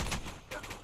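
Heavy rifle or machine-gun fire from the Arma 3 military shooter, a dense burst of loud, close shots with a second cluster of reports midway, cracking and rumbling over each other.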